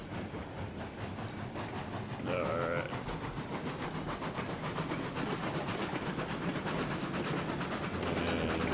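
A steam locomotive in RailRoads Online labors up a steep hill, its exhaust chuffing in fast steady beats with hissing steam and a brief whistle-like tone; a voice speaks once briefly.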